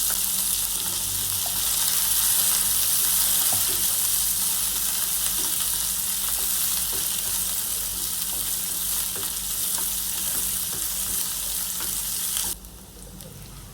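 Chopped onion and chilies fry in a pan with a steady, close hiss and crackle and faint scraping stirs. The sizzle carries on unbroken until it suddenly drops away near the end.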